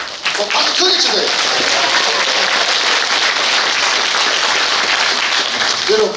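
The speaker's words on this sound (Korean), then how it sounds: "그 둘 다 박수 크게 치세요." Loud, sustained applause from a large audience at a People Power Party members' education session in Gimcheon, a dense continuous roar of clapping filling the whole stretch with a few voices mixed in.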